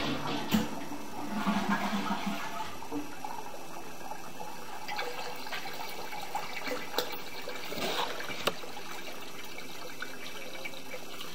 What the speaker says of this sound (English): we're going to flush the basement toilet a couple of times just to get some flow on the sewer